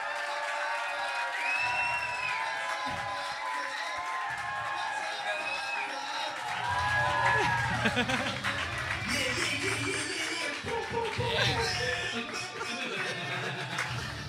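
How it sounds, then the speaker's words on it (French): Live podcast audience clapping, cheering and whooping for arriving guests, moderately loud and continuous for about fourteen seconds, with shouts and voices mixed into the applause. "j'aimerais qu'on commence à applaudir. Tout le monde, on fait du bruit pour Alex Roof puis Mike Patterson."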